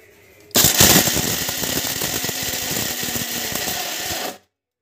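A mixer grinder coarsely grinds ingredients into a rough paste, a loud steady whirring roar with fast rattling clatter that starts abruptly, runs for about four seconds, then cuts off.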